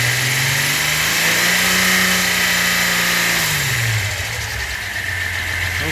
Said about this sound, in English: Let's get it revving.